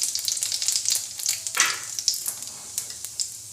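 Ajwain seeds sizzle and crackle in hot oil as a tempering after asafoetida, a steady bright hiss with small pops and a louder surge of spitting partway through, close and continuous with no talking.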